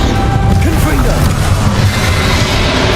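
A Confringo blasting spell striking in Hogwarts Legacy, a loud dense crashing impact with rumbling debris filling the whole moment, game effects layered over it.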